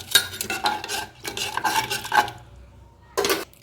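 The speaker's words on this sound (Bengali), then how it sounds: "এবার এটাকে ভালোভাবে মিক্স করে নিয়ে" A spoon scrapes through a masoor lentil dal mixture with potato, onion, salt, turmeric and a little sugar in a pot, making rhythmic bursts of stirring strokes, then a pause before one last scrape.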